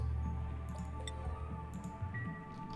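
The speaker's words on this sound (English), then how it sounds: "the water keeps falling out of somewhere" Faint water drips in the colony-building game Oxygen Not Included, a few soft, sparse ticking drops over a quiet, steady hum of ambient game music.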